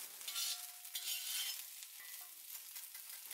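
Vegetable fried rice with spring onion is tossed and stirred in a pan, giving a faint, airy rustle and gentle sizzle over a few seconds with occasional soft scrapes.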